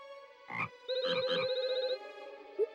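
A cartoonish frog from the farming game Harvest Moon: Animal Parade croaks in a few short bursts followed by a longer warbling, musical croak, with a small chirp at the end.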